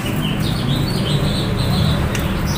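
A white-rumped shama in a cage at a bird kiosk in Condet, Jakarta, sings a run of high warbling phrases. A dense background of shop chatter and other caged birds sits behind it.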